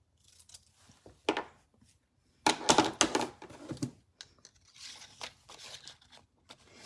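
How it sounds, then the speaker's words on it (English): A paper edge is trimmed for stamping, with close, crisp snipping and rustling in short bursts and a denser flurry of cuts in the middle. "Nope, got to trim the edge."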